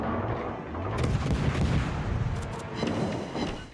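Warship guns firing shells in the naval video game World of Warships, a dense rolling barrage of heavy booms and blasts that continues steadily throughout, loud and close.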